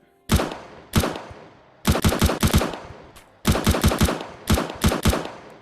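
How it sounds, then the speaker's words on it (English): Modded gun fired in the VR game Blade and Sorcery: Nomad, giving sharp gunshots in quick bursts of two to four, with short pauses between groups, loud and close. "Take the gun spell and imbue it. Then we can shoot it."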